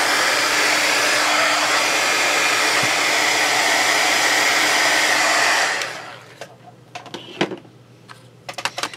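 A hair dryer blows steadily and loudly on glued dollar-store napkin tissue for several seconds, then switches off, leaving quiet scattered clicks and light handling noises.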